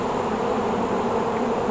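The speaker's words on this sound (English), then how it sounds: "Oh boy, there's a lot of bees." Honeybees swarming around an open beehive while frames are worked, a dense steady buzz that holds evenly throughout, close and fairly loud, with no speech.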